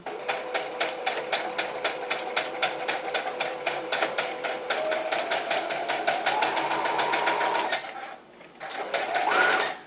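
A sewing machine stitches a reversible bucket hat, its needle chattering in fast, even pulses that speed up into a dense whir, break off briefly near the end, then start again.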